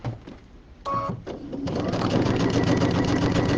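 A sewing machine runs a quarter-inch seam on a project bag, starting after a few brief clicks and settling into a steady close mechanical whir.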